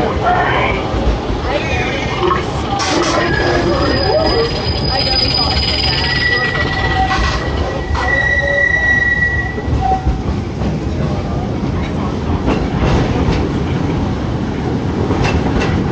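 The Disney World Railroad train runs along the tracks with a steady rumble and rattle, punctuated by high metallic wheel squeals, heard up close and continuously.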